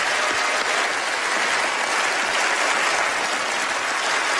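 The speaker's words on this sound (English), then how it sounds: "Give them all a big round of applause for taking part." Loud, sustained audience applause fills the room at a magic competition show, a dense, steady wash of clapping with no break for several seconds.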